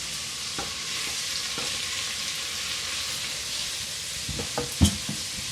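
Vegetarian chili being stirred and fried in a pot: a steady sizzle throughout, with a few soft spoon scrapes and clacks near the end.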